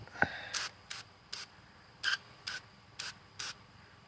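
Repeated short bursts of scrubbing, a stainless steel brush rasping against a crankshaft after carb cleaner, about eight times in a loose rhythm, close and fairly quiet with no talking.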